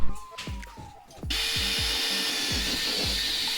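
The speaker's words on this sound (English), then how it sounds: "And then you drill it, and then you install it." A power drill whirs loudly and steadily after a brief start while drilling a hole for boat side rails, with a rhythmic knocking or tapping running underneath.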